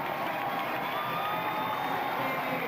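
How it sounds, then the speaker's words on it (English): A basketball crowd on its feet, a dense, steady roar of cheering and shouting filling a gym for a couple of seconds. "the crowd on their feet"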